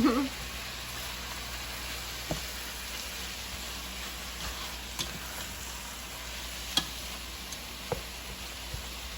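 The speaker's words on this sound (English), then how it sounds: "my meat is over here browning right now" Ground meat browns in a soup pot with a faint, continuous sizzle and occasional soft ticks and clicks, quiet and steady throughout.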